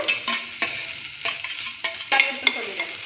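Grated coconut, with cardamom, is sautéed in a pan for a sweet potato laddu: a soft hiss runs beneath repeated scraping strokes of a spoon every half second or so, close and moderately quiet.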